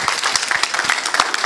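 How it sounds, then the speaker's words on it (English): Audience applause at a sales and marketing talk, a short burst of dense, lively clapping from a room full of people. "Give him a round of applause."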